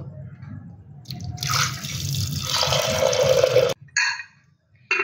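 Water being poured into a pressure cooker of green moong lentils with salt and turmeric: a rising, close gush of flowing water for a few seconds, then a sudden stop and a short final splash, with no talk.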